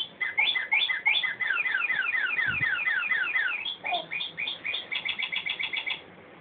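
An electronic doorbell plays a synthetic bird chirp tune, rapid repeated tweets in quick trills for several seconds, loud and clear up close with a thump partway through.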